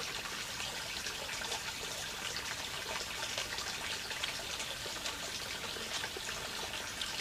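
Running water of a river flows steadily beside a riverbank, a continuous close splashing and trickling wash with no break and no voices.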